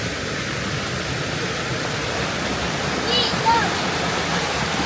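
A river flows near a campsite with a steady, broadband rushing of water that stays constant and fairly close, while a faint chirp or whistle briefly surfaces in the middle.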